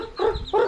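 Two short bursts of chicken clucking close by, one after another, with no talking.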